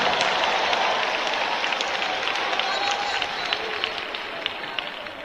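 A worshipping congregation applauding with their hands during a church service, a steady wash of many claps blending into a continuous roar, with voices mixed in beneath the clapping.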